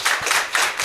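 A few people clap close by, giving a short burst of sharp, fairly loud hand claps in uneven pulses.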